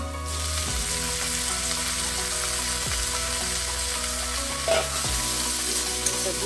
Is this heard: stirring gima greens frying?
yes